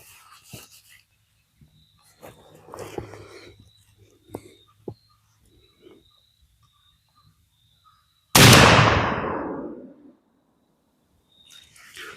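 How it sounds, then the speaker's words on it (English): A 12-gauge shotgun fires a 3.5-inch Winchester SuperX number 4 buckshot load outdoors: one loud, sharp blast that trails off in a long echo, with birds and faint rustling before it. "Let's shoot it and see how this buckshot patterns."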